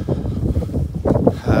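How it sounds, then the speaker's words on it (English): Strong, cold, continuous wind sweeping across open desert with no shelter, heard as a steady low rumble with gusty buffeting against the microphone, loudest near the end. "Got up this morning and the winds continue."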